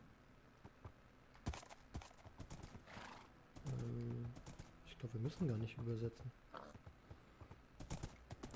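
Minecraft horse sounds in a game world: soft hoof clip-clops and two loud whinnying neighs, heard under someone speaking quietly.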